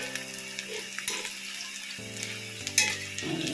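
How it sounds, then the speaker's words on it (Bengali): Cauliflower fritters fry crisply in hot oil in a home kitchen, a steady close sizzle with small bursts and stirring clinks, heard alone without talk. "ফুলকপি একটু বড়া করছি মুচমুচে করে"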